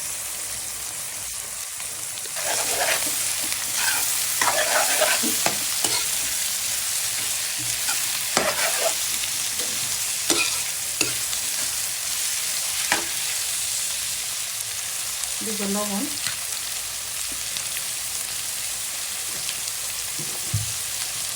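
Bay leaf, cinnamon and cardamom frying in hot oil with onion for fish biryani, a steady close sizzle broken by scattered stirring scrapes and clatters, with a brief spoken word.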